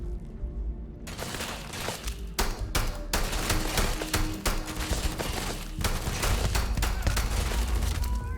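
Heavy gunfire in the sci-fi game Starfield: after a brief lull, dense overlapping shots and bursts hammer on almost continuously, loud and close, with booming low impacts.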